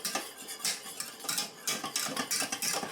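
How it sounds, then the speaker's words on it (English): A whisk scrapes and clinks quickly against a bowl as salt and garlic powder are worked into a flour mixture, with close, busy, irregular metallic taps throughout. "2 teaspoons of salt and a teaspoon of garlic powder. And I'm just going to whisk this in"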